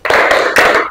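A classroom of pupils clapping a rhythmic 'tepuk fokus' pattern together, two loud, dense bursts of hand claps close by, the second following after a short gap.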